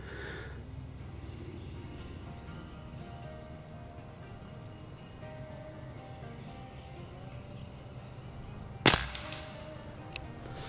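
A single sharp crack from a Beeman Underlever .177 PCP air rifle rings out near the end of a quiet outdoor stretch during target shooting, followed by a brief faint echo or ping.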